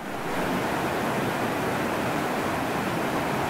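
Steady, dense rush of a mountain stream during a hike near Saint Nicolas, a continuous hiss of fast-flowing water that fills the whole moment without letup. Loud and close, with no voices.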